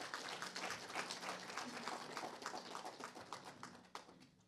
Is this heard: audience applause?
yes